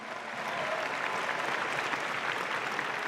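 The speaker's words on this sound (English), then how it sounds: "Let's give a big round of applause to the committee that helped put this together." Audience applause closing the UNLV Creates 2018 event: dense, steady clapping from a crowd that fills the whole stretch at an even level, with no voices on top.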